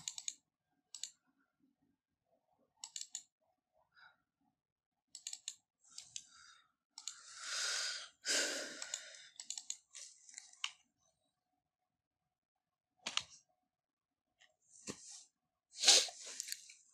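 Computer mouse clicks while working in Illustrator, heard as sparse, crisp single and double clicks close to the microphone, with a few longer rustling bursts between quiet gaps.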